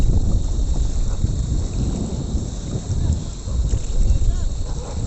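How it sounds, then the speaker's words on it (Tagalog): Gusty wind buffets the microphone out at sea near a fishing boat hauling in a net, a steady low rumble that swells and eases throughout with no clear break. "Medyo maingay yung ano, yung hangin."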